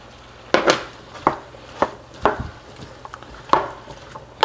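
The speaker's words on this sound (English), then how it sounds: "Give that a nice stir." Someone stirs tomato into red lentil dal in a pan, and a spoon knocks and scrapes against the metal in a run of sharp, irregular clinks and taps. The sound is close and loud, with short pauses between strokes.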